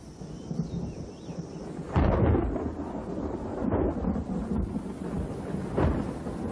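Thunderstorm rumbling over a limestone cave, with deep rolling thunder claps starting around two seconds in and recurring, loud and near, over a steady wash of rain noise; no voices.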